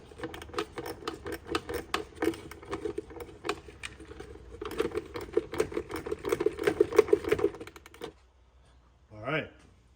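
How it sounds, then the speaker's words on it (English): A ratchet works on a tight fuel pump fitting for a Racetronix 340 pump, giving rapid bursts of close metallic clicking that stop and restart, followed by silence and a brief vocal sound at the end. "I'm getting like a 1/16 of a turn at a time on this ratchet"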